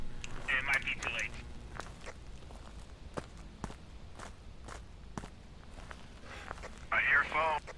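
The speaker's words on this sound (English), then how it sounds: "I hear a phone." A phone rings in a ghost-hunting video game, two short bursts of a bright trilling ring separated by several seconds of soft footsteps and quiet ambience.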